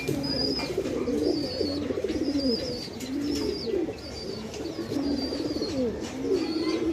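Pigeons from a collection being offered for sale coo steadily, their low throaty cooing repeating in a rolling rhythm close by, with faint higher chirps from other birds above it and no talking.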